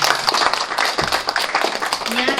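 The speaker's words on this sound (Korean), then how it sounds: "여러분, 오령심 주인님을 따뜻한 박수로 맞이해주시면 감사하겠습니다." An audience applauds a presenter at a district council monitoring report meeting. Dense, close clapping fills the room and continues steadily for the whole moment.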